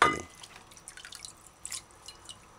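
Water drips and trickles while broccoli florets are rinsed in a kitchen, with a brief splash at the start followed by scattered light drips and small patters, fairly close and heard alone.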